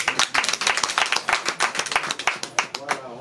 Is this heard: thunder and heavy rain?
no